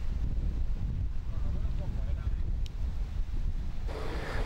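Strong wind in the Karabakh region of Azerbaijan, a loud continuous rumbling gust buffeting the microphone throughout, with a voice speaking over it.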